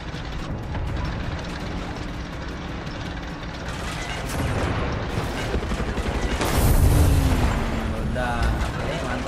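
A vehicle explodes in the video game Far Cry 6, a deep boom rising over constant game noise and engine sound, with someone talking over it.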